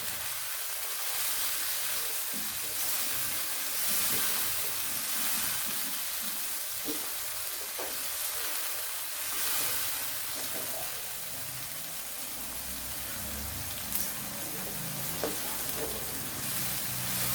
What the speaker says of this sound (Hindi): थोड़ा सा ये मसाला हमारा भुन जाएगा और टमाटर जो है वो हमारा सॉफ्ट हो जाएगा।